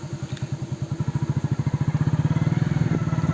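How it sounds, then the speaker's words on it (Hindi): A motorcycle engine on a rural road beside sugarcane fields runs with a steady, rhythmic thump that grows louder as the bike turns around, close by and with no talk. "राशिद भाई ने बाइक घुमा ली, अब खाएंगे गन्ना"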